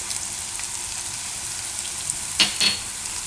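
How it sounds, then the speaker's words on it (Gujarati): Green chillies cooking in hot oil for a Gujarati carrot-and-chilli methi relish give a soft, steady sizzle, with two brief sharper crackles or utensil taps near the end. "મરચાંની તેલમાં તેલમાં તો મરચાંય આપણે થોડીક વાર પકાવી લીધા"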